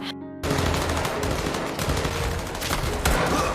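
Loud, continuous gunfire fills the clip, with dense overlapping shots after a brief quiet start and no pauses.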